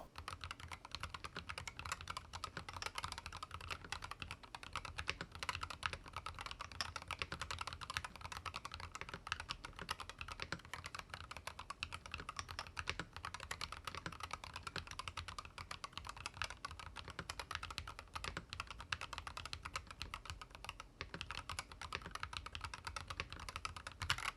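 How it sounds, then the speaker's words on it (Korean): Continuous rapid typing on a YUNZII RT75 magnetic switch keyboard, dense clacking keystrokes close up with no pauses or voices throughout. "RGB는 줄여놓은 채로 타건을 해보도록 할게요."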